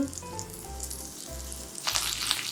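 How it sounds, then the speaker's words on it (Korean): Chive pancake batter sizzles and fries steadily over low heat in an oily pan, a soft crackling hiss with a low hum underneath and brief louder spatters. "먹기 좋게 동글동글하게 부칠 거예요."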